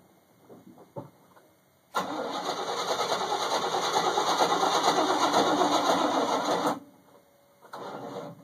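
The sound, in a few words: GMC engine cold starting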